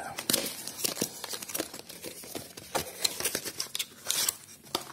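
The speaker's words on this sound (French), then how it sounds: "Donc déballage." Sonoff TH16 smart switch module package being opened, with close crinkling of plastic and paper, rustling and scraping of the box in irregular bursts, no talking.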